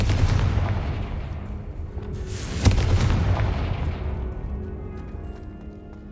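Confringo fire spell exploding in the Hogwarts Legacy video game, one sharp booming blast that then rumbles and fades over several seconds.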